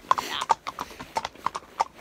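Horse hooves clip-clopping along a road in Ireland on a sunny, chilly morning ride, a close, regular, loud four-beat walking rhythm with faint voices or breath mixed in.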